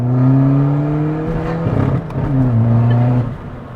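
A rear-engined car on the road accelerates close by, its loud engine droning with a rising and falling pitch through gear changes over several seconds.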